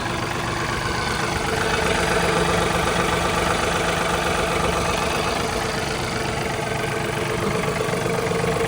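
A brand-new John Deere 3039R compact tractor idles steadily nearby, a constant low rumbling engine drone with no talking.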